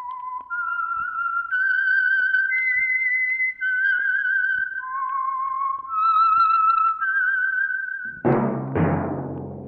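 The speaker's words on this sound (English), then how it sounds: "That whistle is your signal for the Signal Oil Program, The Whistler." A lone melodic whistle plays the signature theme of the Signal Oil radio mystery program The Whistler, a wandering tune of sustained notes heard clearly and alone, ending in a sudden loud burst of orchestral sound.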